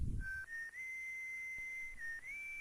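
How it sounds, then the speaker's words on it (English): Proto Man's whistle tune from the video game Mega Man 9, a clear sustained whistled melody of held notes with small pitch steps, heard alone without talk. "He even gets his little whistle tune right before he starts a level"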